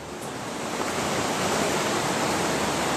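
River water rushes steadily around an inside bend, a dense, broadband wash like a small rapid that stays loud and close and grows slightly over the clip, with no one talking.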